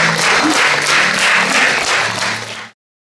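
Dense, steady applause from a theatre audience for a 90-year-old stage performer, loud and close, holding evenly for under three seconds before cutting off abruptly, with a faint low hum underneath.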